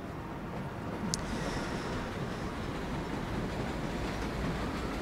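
Subway train running in the World of Subways game, a steady close rumble of wheels and car noise that continues throughout, with one brief bright click near the start.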